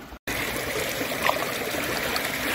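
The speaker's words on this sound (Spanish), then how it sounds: "vamos a cruzar el río" A mountain river stream near Pas de la Casa in Andorra flows steadily and close by, a continuous rushing water sound after a brief dropout at the start.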